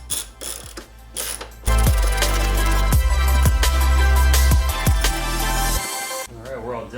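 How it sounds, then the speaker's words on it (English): A ratchet tightening fender bolts on a Nissan Skyline GTR, loud close clicking turns with a few sharp knocks, then a sudden stop. "get these fender bolts tightened down and this job's done."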